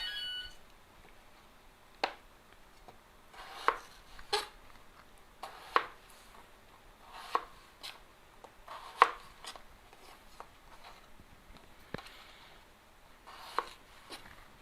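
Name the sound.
knife chopping potatoes into small pieces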